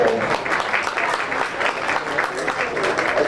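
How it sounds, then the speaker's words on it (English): Crowd at a county fair swine show applauds in an arena, a dense, even wash of many hands clapping that holds steady and fairly loud for several seconds. "a big round of applause out there"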